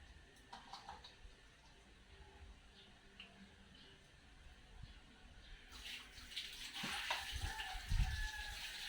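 Running water from a tap splashes and gushes, growing louder and fuller in the second half, with small clatters of handling in a sink.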